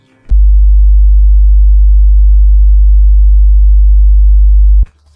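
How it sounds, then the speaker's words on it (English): Amplified 50 Hz mains electricity hum rendered as a pure, steady low sine tone, very loud and unbroken for about four and a half seconds, starting and stopping abruptly. "These 50 Hz can be imagined as a wave, a sine wave, that repeats its cycle 50 times per second."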